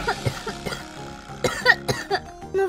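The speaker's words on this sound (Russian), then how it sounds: "смотри, еще и кашель появился." Several short coughs in a row, close and fairly loud, with a throat-clearing rasp among them and a background hum.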